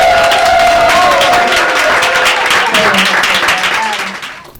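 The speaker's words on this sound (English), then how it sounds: "Please, everybody rise and clap them up here" An audience at a Startup Grind Seattle event celebrating female founders rises and applauds, steady dense clapping with some cheers and voices, loud and near, fading at the end.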